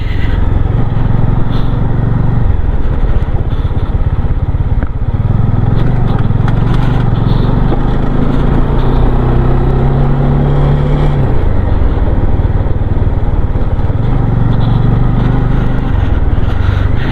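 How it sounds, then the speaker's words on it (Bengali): A motorcycle engine drones loudly and steadily close by, its pitch rising and falling as it engine-brakes on a rough sandy off-road mountain road in Nepal, wind noise throughout. "আস্তে আস্তে ইঞ্জিন ব্রেকিং করে করে উঠছি।"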